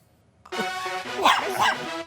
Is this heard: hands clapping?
no